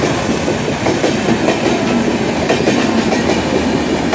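A train rolls past near a flyover, its loud, continuous rumble and rhythmic clickety-clack of wheels on rails filling the scene with no voices.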